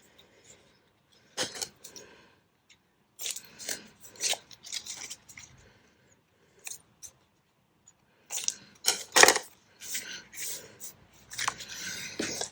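Scissors snip off the end bits of glued paper on a handmade pop-up belly band with a hidden journal space, heard as scattered short crunchy cuts in bursts, close by and fairly quiet, with no one talking.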